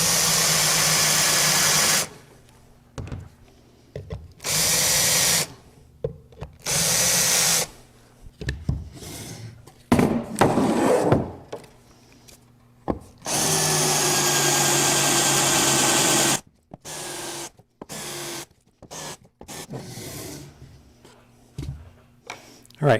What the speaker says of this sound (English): this countersinking process is not required if your screws are long enough